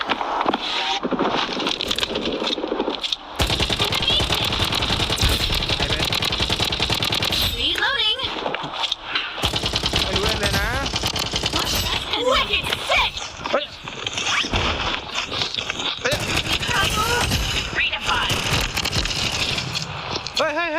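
Two guns fire in a shooting video game, with rapid bursts of automatic gunfire and reload clicks over dense game noise, while someone talks excitedly throughout.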